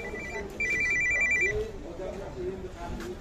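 A mobile phone rings with a repeating electronic ringtone for about a second at a car market, standing out over the surrounding chatter and background noise.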